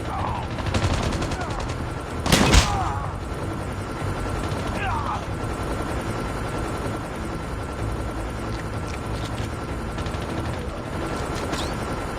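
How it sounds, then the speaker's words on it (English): Gunfire and battle noise from a Call of Duty Mobile capture-the-flag match, with a steady mechanical helicopter-like drone from a stealth chopper, a sharp loud burst near the start, and voices calling out over the din. "Stealth chopper inbound."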